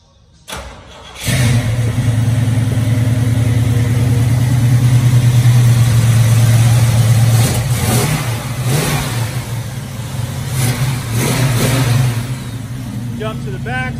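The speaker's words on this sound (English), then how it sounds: "give this thing a crank so you can hear it run" A 1969 Chevrolet Camaro V8 cranks over at close range, then settles into a loud, steady idle.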